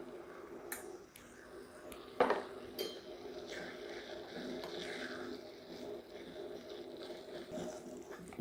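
Pumpkin halwa with salt and ghee is stirred in a pan, giving soft scraping and a few sharp metallic clinks of a spoon against the pan. The sounds are quiet and come at irregular intervals over a low background.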